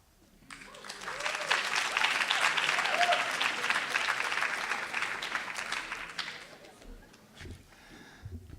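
Warm audience applause follows a poetry reading at a festival, a dense wash of clapping that swells, holds steady for several seconds and then thins out, with a few voices underneath.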